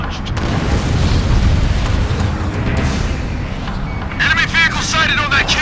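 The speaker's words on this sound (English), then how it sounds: "Missile launched." Missile launch and explosion in the Ace Combat Infinity flight combat game, a heavy booming roar that swells and rumbles steadily under engine noise, with radio voice chatter breaking in near the end.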